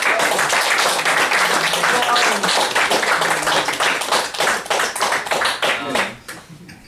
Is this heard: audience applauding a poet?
yes